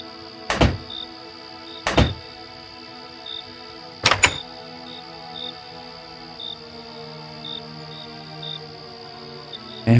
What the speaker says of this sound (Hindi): सुनसान जंगल में रात के 2 बजे कौन दरवाज़ा खटखटाता है?